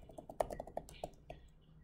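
Rapid keystrokes on a computer keyboard while entering a web address into a browser on a desktop or laptop, a quick burst of close, crisp clicks followed by a few slower taps.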